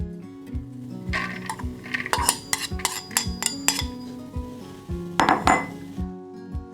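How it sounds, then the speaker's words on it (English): Red cabbage is added to a bowl for a vegan slaw, heard as a close run of clinking and scraping against dishes and utensils, with sharp taps and chinks scattered throughout and a denser clatter near the end. "Gonna add a little bit of red cabbage."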